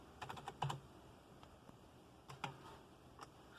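Quiet keystrokes on a Dell OptiPlex 755 computer keyboard: a short cluster of taps, a pause, then a few more clicks, close and soft with no talking.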